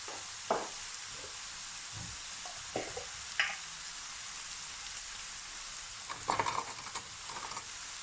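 Lasagna sauce sizzling in a pan while being stirred, a soft steady frying hiss with a few scattered scraping clicks and a short clatter of utensil taps near the end, no voices.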